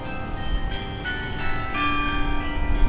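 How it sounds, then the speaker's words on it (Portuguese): Church bells ring out continuously at noon during a bell festival in Portugal, sustained overlapping tones over a busy background hum, heard from some distance. "Agora meio-dia está acontecendo aí o Festival dos Sinos."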